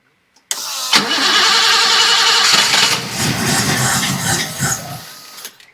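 A 1980 BMW 528i E12 six-cylinder engine cranks briefly, then catches and runs loudly up close with a rough, uneven idle that fades and dips toward the end.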